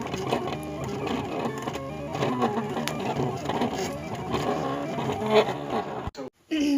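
A steady mechanical whirring and buzzing of an electronic cutting machine cutting shapes on a mat for home decor signs, running continuously, with faint background music, cutting off abruptly near the end.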